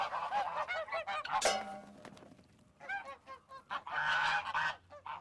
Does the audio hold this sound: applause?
no